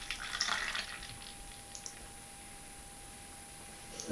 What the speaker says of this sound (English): I'm just going to pour the rest of it in so you can see that head one more time.